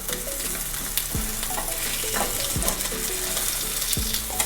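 Steak for steak au poivre sears in a hot pan with a loud, constant sizzle, marked by a few sharp clinks and scrapes that recur about every second or so.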